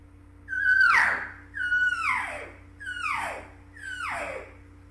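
A person imitates an elk cow with a mouth call: four drawn-out, descending mewing calls with a slight buzzy edge, evenly spaced and fairly close, with a faint hum underneath.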